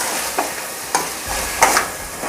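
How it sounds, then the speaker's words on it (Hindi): A spatula mixes vegetable paratha filling with black pepper in a hot pan, giving three or four quick scraping strokes over a low sizzle, loud and close, with no voices. "और फिर से इसे मिक्स कर देंगे।"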